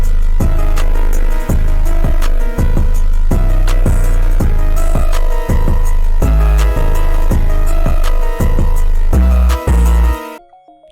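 A dense, loud hyperpop glitchcore beat plays at full volume, with booming bass, kicks and bright synth stabs all layered together. It runs for about ten seconds and then stops abruptly. No one speaks.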